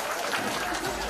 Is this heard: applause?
yes